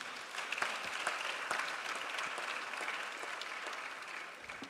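Sustained applause from a political summit audience for the panelists, a dense, even roll of many hands clapping at moderate volume that eases slightly toward the end.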